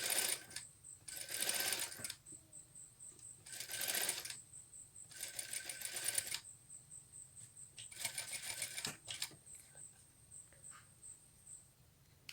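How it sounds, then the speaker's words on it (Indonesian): A sewing machine topstitches a Shanghai collar in four short, even bursts of whirring, with quiet pauses between runs; no one talks. "Jahit tindis perlahan-lahan dari ujung ke ujung."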